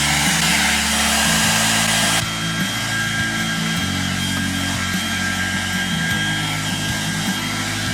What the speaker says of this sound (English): it all eventually came off with a bit of heat and a help from a hairdryer